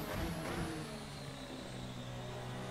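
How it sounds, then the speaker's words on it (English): Steady high-pitched whine of the V6 hybrid engine in the RSS Formula Hybrid 2017 car in Assetto Corsa, a continuous drone of fairly constant pitch with no break, playing alone at moderate level. "it's the noise of the engine, the volume, which now is much louder than before"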